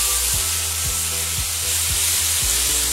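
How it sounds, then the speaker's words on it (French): Shallots sizzle in a very hot frying pan while steak rests nearby, a loud, steady crackling hiss with rhythmic scraping strokes as they are stirred, no voices over it. "on met les échalotes dans la poêle"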